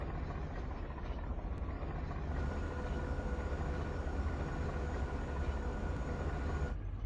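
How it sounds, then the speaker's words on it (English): A large, strange aircraft approaches in the Sand Land video game: a steady, loud, broadband engine rumble holds throughout and swells in brightness partway through, with no talking over it. "there's a weird plane headed our way. A big one."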